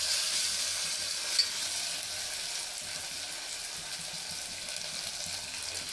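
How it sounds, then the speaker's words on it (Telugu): Ginger garlic paste sizzles and fries with onions in a pan while being stirred, a steady close crackling hiss with no talk over it. "నేను 1 టీ స్పూన్ అల్లం వెల్లిపాయ వేసుకున్నాను పేస్ట్. ఇది కూడా మంచి ఫ్రై అయ్యేలాగా కలుపుకోవాలి."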